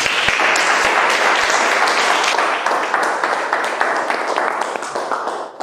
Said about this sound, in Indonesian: Mohon untuk teman-teman bagi berdiri bersama beliau dengan tepuk tangan.